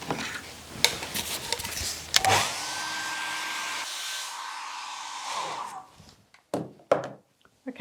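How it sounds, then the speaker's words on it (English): A hair dryer whirs steadily for a few seconds and then cuts off, framed by clattering knocks and thumps before and after. "that took about 2 minutes to dry with the hairdryer"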